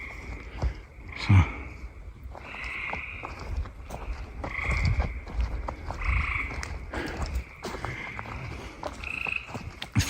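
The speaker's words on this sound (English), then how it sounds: "the frogs will be even louder as we get up by the water" Frogs croak in a dense, overlapping chorus near the water at the Erie National Wildlife Refuge, their rhythmic calls fairly close and steady throughout.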